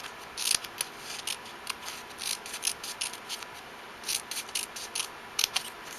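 Scissors snipping paper for owl punch art, a quick series of crisp close cuts in uneven bursts, with no talking.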